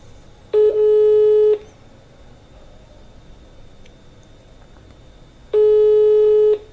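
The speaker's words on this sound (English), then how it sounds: "Okay, so the phone is ringing." A phone call rings through a speakerphone on an iPhone, two long electronic ring tones separated by a few seconds of quiet line hiss, clear and even in level.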